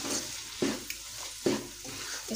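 Chickpea and lentil pulao being stirred in a pot, with a few distinct scraping strokes of the spoon at a steady pace over a soft background hiss, close and moderately loud.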